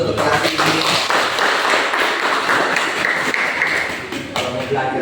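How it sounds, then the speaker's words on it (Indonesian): Schoolchildren in a classroom clap their hands together in a loud burst that thins out toward the end, with chatter and voices mixed into the clapping. "tepuk tangan dulu untuk kelas ini"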